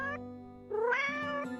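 A cat meowing in an animated Bible film, two close, clear meows, the second longer and rising, with nothing else heard.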